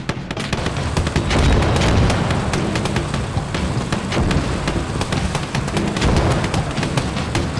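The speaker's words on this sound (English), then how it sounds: "You're going to see some return fire from those cannons." Dense, continuous booming and rumbling, with sharp cracks scattered throughout, from tank cannon fire in a loud Battle of Verdun in the video game Army Men War of Worlds.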